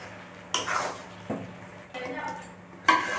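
Chicken being stirred and sautéed in a kitchen pan: a spoon scrapes and clatters against the metal in four short bursts, with a faint sizzle underneath.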